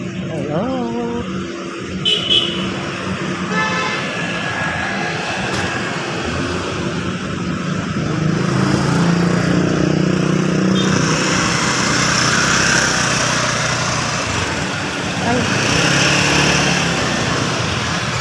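Vehicles pass on a road near a highway, with engine and tire rumble rising and fading at mid distance, mixed with street noise and intermittent talking.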